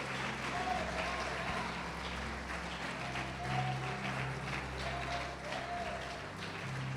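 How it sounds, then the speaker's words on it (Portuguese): A congregation at a church service applauds in a distant, continuous patter over a low hum. Faint voices and tones sound underneath. "Vamos aplaudir o Senhor, vamos glorificar a Deus"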